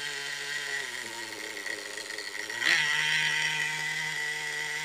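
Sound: Redcat RC car SH18 engine idling

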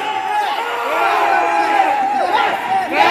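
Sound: convention crowd shouting yes

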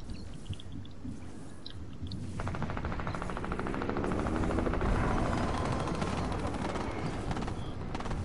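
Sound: helicopter in a video game

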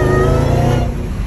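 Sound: Dodge Charger Hellcat engine revving

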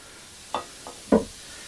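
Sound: stirring batter with orange juice and baking soda

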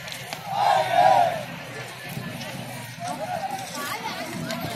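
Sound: crowd bustle at railway station

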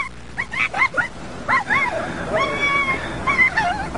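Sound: dog barking and whimpering

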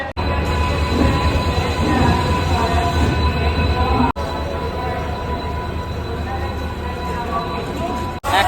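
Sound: train arriving at station

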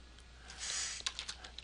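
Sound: typing a file name on a computer keyboard

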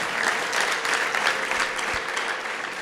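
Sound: church congregation applauding for Jesus

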